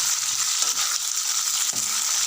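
Fenugreek, cumin and coriander seeds fry in a pan for a tomato chutney, a continuous hissing sizzle broken by a few faint stirring scrapes, close and without any talk.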